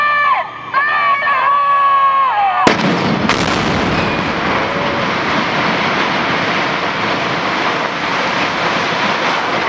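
A building implosion blast at the International Paper site in Albany goes off as a sudden loud boom after a brief whistle-like tone, followed by sustained rumbling of the collapse and distant crowd noise.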